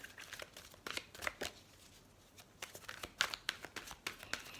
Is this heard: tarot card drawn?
yes